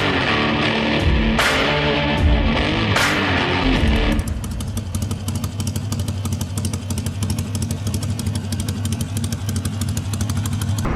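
A motorcycle ridden on the road from Hyderabad toward Nagarjuna Sagar, with loud, steady engine drone and a rapid throbbing exhaust pulse throughout, close and continuous with no talk.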